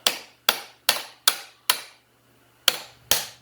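A hammer drives a swingarm bearing out of a 2008 Honda 400EX ATV in seven sharp metallic strikes, evenly spaced at first, then a short pause before the last two blows.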